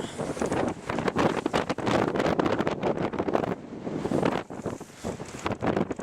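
Strong outdoor wind buffeting a microphone in Ireland, loud rumbling gusts that rise and fall continuously and swamp everything else.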